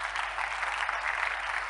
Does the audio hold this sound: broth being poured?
no